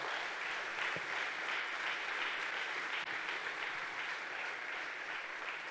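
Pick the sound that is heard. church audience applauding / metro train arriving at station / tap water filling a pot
church audience applauding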